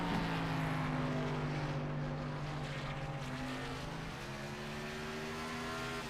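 A NASCAR Cup car on a qualifying lap on the paved Bristol oval accelerates out of turn 4. Its engine makes a continuous droning roar that holds and slowly shifts pitch, heard from a moderate distance with no voices.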